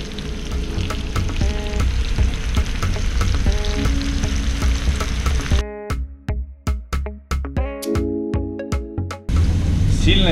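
Loud, continuous sizzling of onions and mushrooms frying in a hot pan, with stirring and clattering scrapes that come through in sharp bursts midway.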